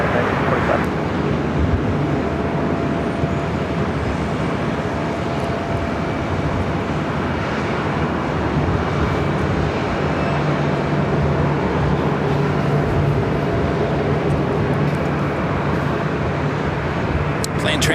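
Boeing 787 Dreamliner on final approach to runway 24 right at LAX, a continuous loud broadband jet roar with a steady low hum, held at even level throughout.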